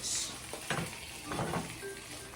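Salmon skin sizzles and fries in a pan, a steady, fairly quiet hiss with faint stirring or scraping touches and no voices.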